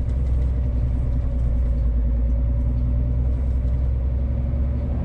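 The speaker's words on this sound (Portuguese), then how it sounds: "O caminhão tá patinando bastante." A truck struggles along a wet, sandy stretch of dirt road on the way to a farm, its engine rumbling low and steady with the wheels spinning in the soaked sand. The drone is continuous, heavy and close.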